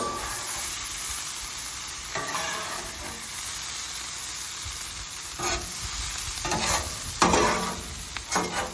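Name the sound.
cabbage and corned beef frying, stirred with two spatulas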